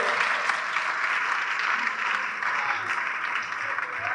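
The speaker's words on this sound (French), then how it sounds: "Allez, on applaudit très fort pour eux." Steady, dense applause from a comedy show audience in Bukavu, continuous and fairly loud throughout with no pauses.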